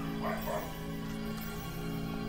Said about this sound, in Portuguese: Acho que ele tá latindo pra outro cachorro que está na rua